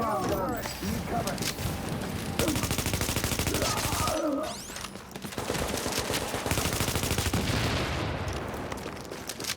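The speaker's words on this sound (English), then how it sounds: "Probably faster if I just shoot them." Near-constant rapid automatic gunfire from shooting enemies in a shooter game rattles loudly, with a short lull midway and voices talking underneath.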